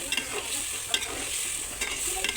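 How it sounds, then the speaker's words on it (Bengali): Beef tripe being stirred into spices in a hot pan, a close, continuous sizzle punctuated by repeated scraping and clacking of the spoon against the metal. "এই যে আমি সব ভুঁড়িগুলো দিয়ে এখন মশলার সাথে আমি নেড়েচেড়ে মিশিয়ে দিচ্ছি"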